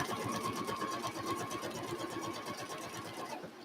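A sewing machine stitches a quarter-inch quilt seam with a steady, rapid needle rhythm, close and continuous with no talking.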